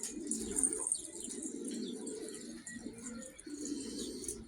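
Young pet pigeons coo in low, throaty rolling phrases close by, repeating almost continuously over faint chirps and background hiss.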